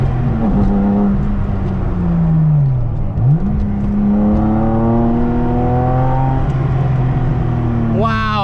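An RWB-modified Porsche engine revs hard and loud from inside the car while driving, rising in pitch through the gears, dropping at a shift, then climbing again, with a voice talking over it.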